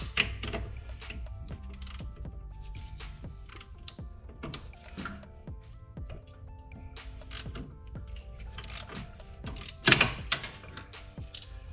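Flex head ratcheting wrenches click rapidly and steadily while working on the hub of a Subaru Impreza 2.5RS, with a louder metallic clank near the end, close up and without talk.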